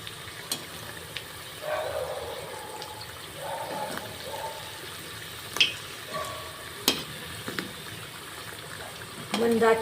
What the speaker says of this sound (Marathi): खारी आता दुसऱ्या साईडनं तळून घेऊया